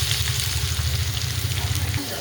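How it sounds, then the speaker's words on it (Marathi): Chopped onion dropped into hot oil already crackling with cumin and mustard seeds, producing a steady loud sizzle and frying hiss up close, with faint stirring. "जिरे मोहरी पूर्ण तडतडलेली आहे मी आता हा कांदा टाकून घेतो"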